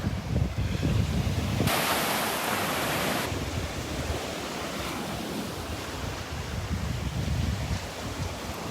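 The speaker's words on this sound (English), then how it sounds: "Feels like that wind's coming out of the south." Steady wind buffets the microphone while surf rolls in on a morning beach walk at Delnor-Wiggins, a continuous loud roar with a sharper gust of wind noise early on and no talk.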